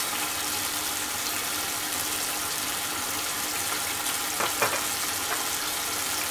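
Whole cumin seeds sizzle in hot oil with a steady, close, crackling hiss that fills the whole stretch, broken by a brief clatter near the end; no one speaks.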